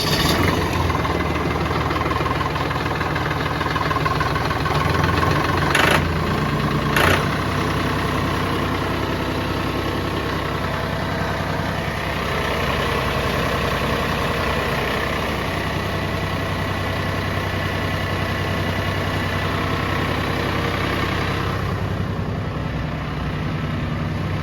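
A Massey Ferguson 2600H tractor's diesel engine runs at a steady, close idle with a constant low throbbing hum and a couple of brief knocks or clanks near the start.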